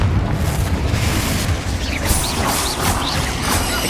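Confringo explosive spells go off in Hogwarts Legacy, a loud, close run of booming blasts and crashes layered with rattling, whooshing debris, the bursts repeating and overlapping through the second half.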